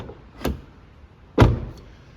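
A car door that has sat shut in the cold is worked open, giving two sharp, close clunks about a second apart with faint rattling after each.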